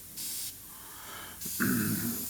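An airbrush spraying thinned paint onto a dragon piece, in two short hissing bursts, one brief and one longer, between breathy pauses and a faint voiced sound near the end.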